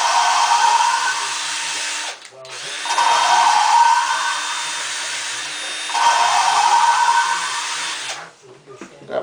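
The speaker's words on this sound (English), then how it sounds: "So the grinding sound goes away." A power tool grinds on a ported D16 cylinder head in three long, high whining runs, each rising slightly in pitch, separated by brief pauses and faint clicks.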